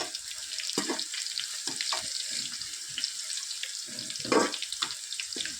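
Ingredients for Hyderabadi chicken biryani fry in a pan while being stirred, giving a continuous close sizzle with scattered crackles and occasional louder scraping bursts.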